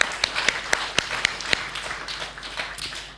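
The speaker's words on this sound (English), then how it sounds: "A round of applause to Gordon." Audience clapping for a 100-year-old WW2 veteran at a veterans' event, a few sharp distinct claps at first over a soft smattering that thins out across three seconds.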